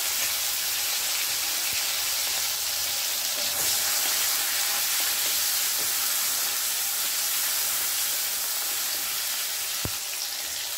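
Tomatoes and cumin frying in a pan, giving a constant soft hiss and sizzle with a few faint knocks and no voices.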